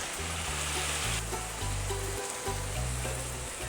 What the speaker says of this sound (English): I'm going to start frying the chicken in my 2 tablespoons of olive oil